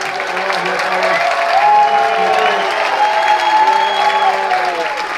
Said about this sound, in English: Can we give a round of applause for the cast?